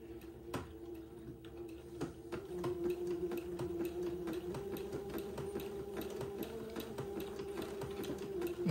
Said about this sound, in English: I'm gonna zigzag the right side of the entre deux ladder first, and then I'll come back and zigzag the left side of the entre deux ladder.